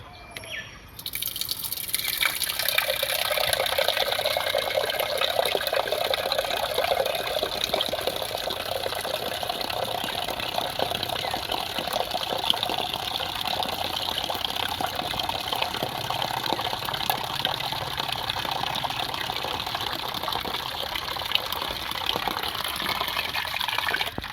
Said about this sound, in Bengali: জলটা ভরা কমপ্লিট, এখন ওই জায়গায় দিয়ে দেবো।